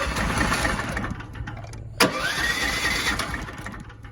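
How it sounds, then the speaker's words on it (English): Snowmobile-type engine turned over by its electric starter on a machine that usually needs choke. A steady cranking drone catches at about two seconds with a sharp burst, then settles into a rising running note. "So electric start works good. I bet it would start right up."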